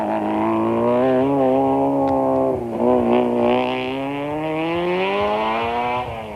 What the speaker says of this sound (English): With the bodywork badly bent, but the engine running, Serge and Vito get their Toyota going